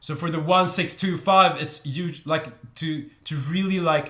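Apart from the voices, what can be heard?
No everyday noises stand out.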